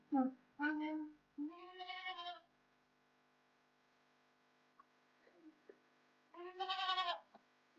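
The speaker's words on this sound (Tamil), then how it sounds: "5 செம்பரி ஆட்டுக்குட்டி, 3 நாட்டு ஆட்டுக்குட்டி வச்சிருக்கோம்" Goats and lambs on a small farm kept with several sheep lambs and native goat lambs, bleating in a few loud, wavering calls near the start, then a quiet stretch and one more strong bleat near the end.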